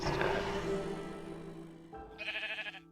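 Sheep bleating in Minecraft, a single drawn-out bleat sounding close and clear, followed by a brief, higher wavering cry near the end.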